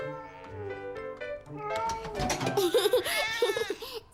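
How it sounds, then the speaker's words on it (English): A cartoon cat meows in a holiday children's cartoon, giving a few drawn-out, tuneful cries at a moderate level. Light giggling-like sounds follow. "Silly cat."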